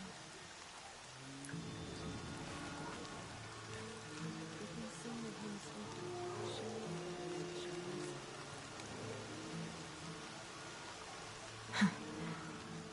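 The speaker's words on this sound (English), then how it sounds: "Rain's not so bad." Steady rain falls in Horizon Zero Dawn near the sealed Carja border, a continuous hiss under musical tones, with one brief louder knock near the end.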